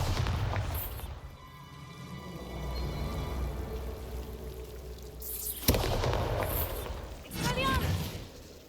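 The Bombarda explosion spell from Hogwarts Legacy lands as a sudden sharp blast, followed by rumbling debris and swirling magical whooshes amid game ambience.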